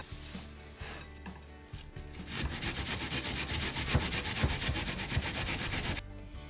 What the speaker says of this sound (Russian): Теперь натрем 3 луковицы на терке.